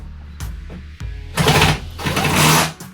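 A power drill whirs in bursts, starting and stopping several times, loud and close, with the pitch rising as it bites.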